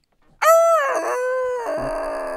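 A voice imitates a squeezed rubber chicken toy with one loud, drawn-out squawking wail that shifts pitch twice over about two seconds before ending.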